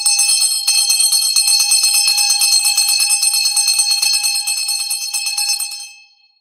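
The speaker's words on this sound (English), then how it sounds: "That was our new bell." A new bell rung to mark the 4 p.m. stock market close sounds in a loud, continuous metallic ringing that lasts about six seconds, then cuts off abruptly, with no voices over it.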